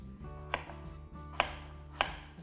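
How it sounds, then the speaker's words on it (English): A knife chops peeled apples off the core on a board: three sharp, close strikes spaced unevenly against a quiet background. "the easiest way to do it is chop them off the core"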